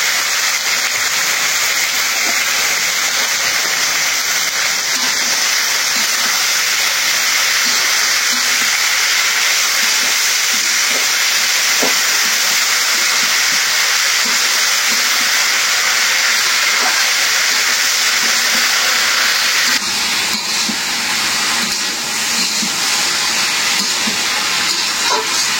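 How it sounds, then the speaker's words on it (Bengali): Bitter gourd and potato pieces frying together in hot oil, giving a loud, steady sizzle and hiss that runs unbroken throughout with no talking. "তো এখন দিয়ে দিলাম করলা আর আলু।"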